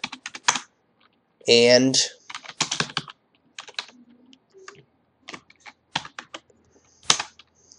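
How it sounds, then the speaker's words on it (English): Typing on a computer keyboard while entering a command in Kali Linux, a few short bursts of key clicks scattered between brief bits of nearby speech. "All you have to do is just type in the command,"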